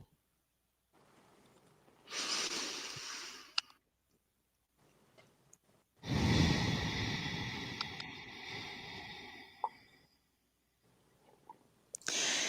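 Slow, deep breaths drawn in and let out through the nose and mouth, two long full inhales and exhales separated by quiet pauses, close and clear with faint soft clicks.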